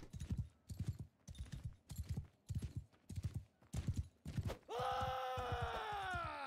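Horse hooves clip-clop in a steady rhythmic gait, close and clear in the video game Mount & Blade II: Bannerlord, followed by a loud sustained horse whinny at the end.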